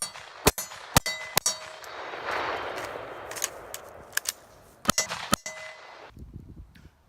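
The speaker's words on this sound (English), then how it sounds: "I'm shooting on quarter-size silhouettes, and at 50 yards, that is really not a tough shot" Handgun shots rung against quarter-size steel silhouette targets at 50 yards, a run of about a dozen sharp cracks in uneven bursts, several followed by a faint metallic ping, with a hiss of movement between and no talk.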